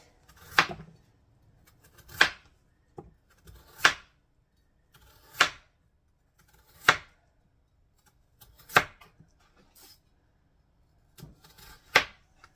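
A knife slices raw potatoes into thick pieces on a board, seven distinct, evenly spaced chops with quiet pauses between them, close and clear with no talking.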